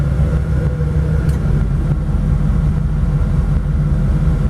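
A 1932 Ford Tudor two-door all-steel resto rod sedan rolls over speed bumps, its engine holding a steady, loud, close rumble throughout with no talking.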